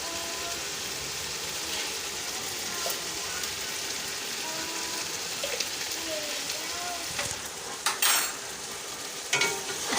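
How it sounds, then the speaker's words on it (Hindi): Mixed vegetables with chili sauce and soy sauce sizzle steadily in a hot pan, with occasional scraping and stirring clatters near the end, continuous and close without talk. "इसको अच्छी तरह से मिक्स कर लेंगे और 1 मिनट तक मज़ीद इनको भून लेंगे"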